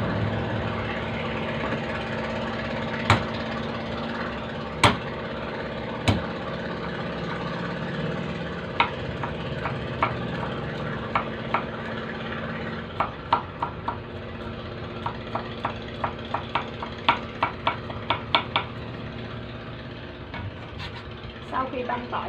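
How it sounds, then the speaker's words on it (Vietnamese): Knife striking a cutting board while garlic is minced, with a run of quick, sharp chopping taps that grows denser toward the end over steady low kitchen background noise. "Tiếp theo nữa là mình sẽ băm tỏi."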